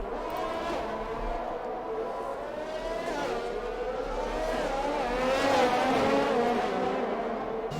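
Formula 1 race cars braking in the F1 2021 game at the Hungary circuit, engine whine dropping and shifting in pitch as several cars slow, continuous and fairly loud with a slight squeal layered over a low rumble.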